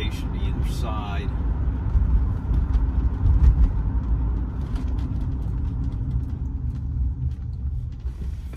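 A 1985 Mercedes-Benz 380SE heard from inside as it drives on after a hard braking stop, with a steady low engine and road rumble that swells slightly midway and continues without break.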